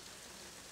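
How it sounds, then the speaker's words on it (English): Rain falls steadily outdoors during an Alabama deer hunt, a faint, even hiss of drops with no other sounds. "As you can hear, too, the rain's starting to pick up."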